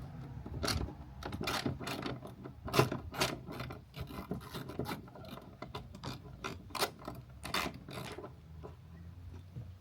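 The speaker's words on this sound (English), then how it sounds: "we need to get a ratchet or something on the inside" Ratchet wrench turning a 10 mm nut on the steering and shift cable of a Yamaha FX WaveRunner, giving rapid, continuous pawl clicks in short bursts, close and fairly quiet, with no talk.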